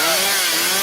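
A loud, continuous chainsaw roar with a steady high whine plays on its own, with no one talking over it.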